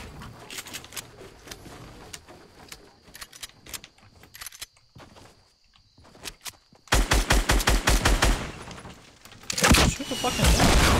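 Weapons fire in a Fortnite solo-versus-squad match: scattered rapid bursts of gunshots at first, then a dense, loud stretch of automatic fire with booming impacts near the end.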